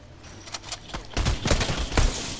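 Pistol shots ring out in a Fortnite match, a quick run of sharp cracks that starts faint and grows louder and denser toward the end, with several shots close together.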